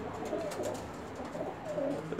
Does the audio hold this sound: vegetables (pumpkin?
no